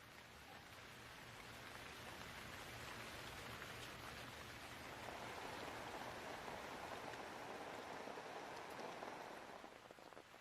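Steady rain falls through a forest in Sikkim where red pandas live, a dense, even patter of drops on leaves and ground that fills the whole stretch without letting up.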